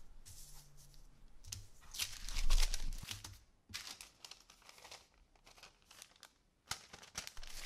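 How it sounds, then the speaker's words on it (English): Folded parchment paper being cut into squares along its creases, giving a run of crisp crinkling and slicing rustles, loudest in a burst near the middle, then lighter scattered snips and paper handling close up. "And I have to cut where the folds happened."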